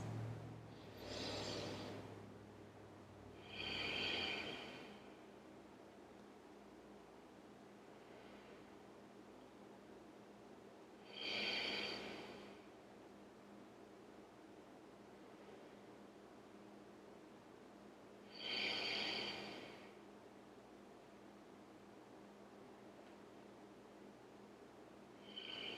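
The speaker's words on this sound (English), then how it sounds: "Let's take 5 slow, steady breaths." Slow, steady breathing during a beginner yoga flow, with several soft, airy breaths spaced evenly apart across a quiet room and no one talking.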